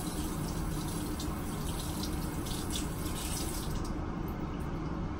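Steady water runs from a tap at a sink to wet a makeup brush, a continuous even hiss and splash heard close and alone for several seconds without any talking.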